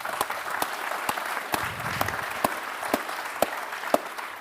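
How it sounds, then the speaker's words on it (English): A round of applause from the audience at an AI panel session, a sustained, fairly soft wash of clapping with sharp individual claps standing out near the microphone, lasting several seconds without talk. "Just a quick round of applause for them being here."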